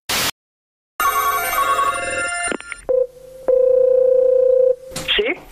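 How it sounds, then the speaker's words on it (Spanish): After a prank phone call is hung up, a telephone line gives a short burst, then a busy mix of tones and rings. A long steady beep follows, then a brief final tone, with voices briefly mixed in near the start. "Ya, don José, vamos a colgar ya."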